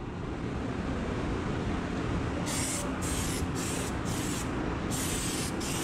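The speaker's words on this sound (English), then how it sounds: "Spraying the bed liner on the inside of it." A spray gun hisses continuously, spraying Raptor 2K bed liner, over a loud steady background roar, with several short sharp bursts of spray near the end.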